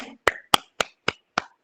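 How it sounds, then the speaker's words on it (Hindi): Six sharp, evenly spaced hand claps ring out at a yoga and satsang session, each one crisp and separate against near silence. "तालियां बजा लीजिए, इससे कुछ तो होगा लाभ।"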